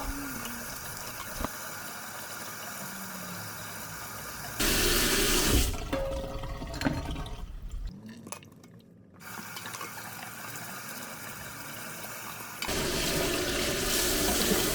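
Running tap water splashes over a plastic food bowl from a small fish tank as it is rinsed in a sink, with steady flow broken by louder gushes and brief pauses.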